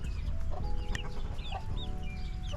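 Chickens and little chicks gather around a homemade nipple watering setup, clucking softly and chirping in short, overlapping calls close by.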